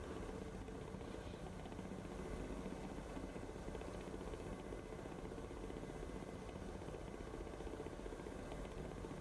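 Ka-50 coaxial-rotor attack helicopter in a flight simulator game, a steady, dense rotor and turbine drone holding at an even, fairly quiet level throughout with no talk.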